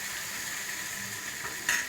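Drumstick sambar bubbling on the stove in a pot, a soft continuous simmering hiss throughout, close and steady, with no talk.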